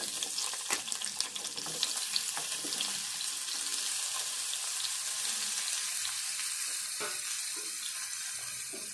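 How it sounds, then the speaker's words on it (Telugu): Chopped ridge gourd pieces fry in a pan, a steady close sizzle with scattered crackles and light stirring scrapes running throughout, no voices. "బీరకాయ ముక్కలు కూడా కొంచెం దూరగానే వేయించుకోవాలి."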